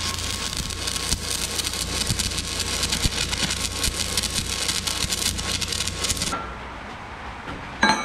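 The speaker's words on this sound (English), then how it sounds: "I'm gonna go ahead and, I guess, weld it up." Welding on a homemade lathe frame: a steady, loud crackling hiss runs for about six seconds, then cuts off, followed by a quieter stretch and a short sharp clank near the end.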